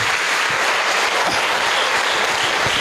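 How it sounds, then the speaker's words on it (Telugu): An audience at a Vestige business training session applauds its parents with a dense, steady wave of clapping that holds at full strength from start to finish, with no voices. "మన తల్లిదండ్రులకి ఒకసారి గట్టిగా చప్పట్లు కూడా"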